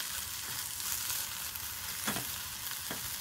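Fresh spinach wilts in a hot pan with a dense, bright sizzle that stays loud and steady, broken by a couple of soft stirring knocks.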